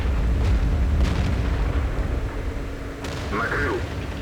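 Tier 10 artillery shell fired in World of Tanks, a dull distant boom under a dense, noisy battle soundscape with muffled engine rumble and a few scattered sharp transients.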